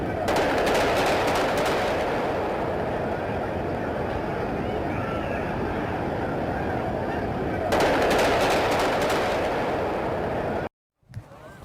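Gunfire in Times Square after a mass parade, caught on a security camera as loud rapid bursts of shots over dense street noise, with a second burst later.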